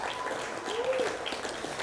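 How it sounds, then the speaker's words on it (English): Wedding guests applaud during the speeches, with quiet, distant clapping spread through a short stretch and a faint voice in the room. "can I just get another round of applause for Steph and the flowers"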